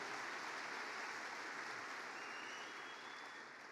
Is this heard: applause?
yes